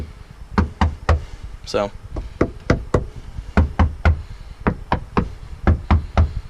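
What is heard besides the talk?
knocking on a car audio subwoofer enclosure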